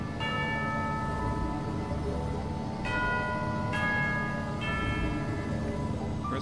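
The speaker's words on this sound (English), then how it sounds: "Hear the sound of a bell." Bell tones in the video game Genshin Impact, set in the sewers of Fontaine, sound three or four times at a steady pace over a constant ambient hum, with no voices.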